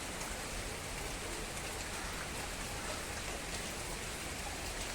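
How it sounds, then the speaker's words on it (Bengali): Heavy rain pours steadily outdoors beside a house, a dense, even hiss of drops close by with no talking over it. "আজকে খুব বৃষ্টি। আপনার দেখাচ্ছি বৃষ্টিটা। এই বৃষ্টি পড়ছে, কত জল হয়ে গেছে।"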